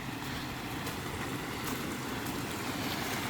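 A creek on a Sewanee, Tennessee hiking trail flows at a wet crossing, giving a steady, even rush of water with no breaks.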